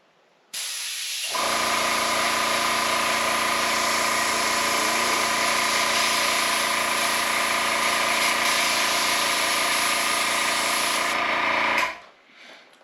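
A small airbrush with its nozzle only partly open sprays in a steady, loud hiss that sputters slightly, running continuously for about ten seconds before cutting off.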